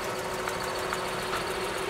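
A car engine keeps idling steadily with one spark plug removed, a constant mid-pitched hum and faint rough pulsing throughout, no voices.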